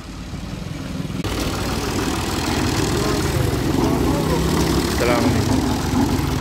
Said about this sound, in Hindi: वो ट्रैक्टर बाहर आ रहा है मेरा ख्याल है